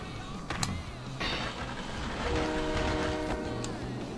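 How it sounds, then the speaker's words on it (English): A subway train in Tony Hawk's Pro Skater 2 rumbles along with a horn blast and rail clatter, steady and fairly loud under game effects, with no voices. "Oh, hey, there's a subway."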